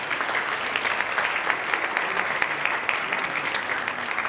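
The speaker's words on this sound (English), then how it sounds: "Let's give them again a round of applause." An audience applauds a panel at the close of a discussion event, a dense, steady wash of clapping from many hands that holds at an even loudness throughout, with no voices standing out.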